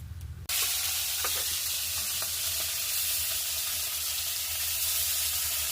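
After a short rumble, fish drops into hot oil and a loud, steady frying hiss fills the rest, with faint spatters and clinks.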